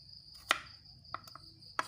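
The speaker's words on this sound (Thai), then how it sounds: "แล้วก็มาหั่นชิ้น ชิ้นพอดีคำนะครับ" Knife chopping peeled papaya into bite-size pieces on a board, three sharp separate thuds spread over two seconds, close and fairly faint, with a steady insect chirr in the background.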